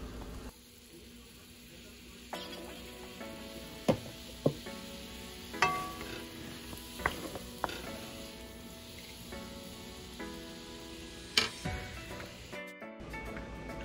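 A cream sauce of flour and butter thickening in a pan, with a steady low sizzle and bubbling, punctuated by repeated spoon or whisk knocks against the pan at irregular intervals.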